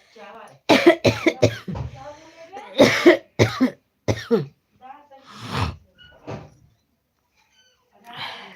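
Several harsh coughs in bursts, close and loud, some trailing into raspy breaths, with short pauses between fits.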